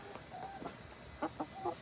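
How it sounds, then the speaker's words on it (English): Backyard hens, part of a flock of six, give soft, scattered clucks and short calls, faint and close, with a few quick notes bunching near the end. "There are 6 chickens out here, by the way."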